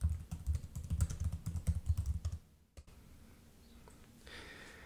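Rapid keystrokes on a computer keyboard type out a search, a close, steady patter for a couple of seconds that stops abruptly, followed by quiet room tone.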